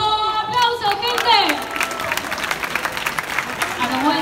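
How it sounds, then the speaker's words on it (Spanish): At a freestyle rap battle, an audience bursts into applause and cheers over an announcer's amplified voice, clapping building and continuing through the short moment. "¡Aplausos, gente!"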